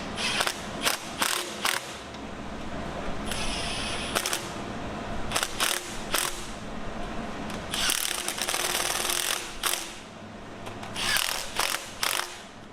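A ratchet wrench clicks in quick bursts while tightening bolts on a Chevrolet big block 454 engine, with rapid close ratcheting runs separated by short pauses and no talk.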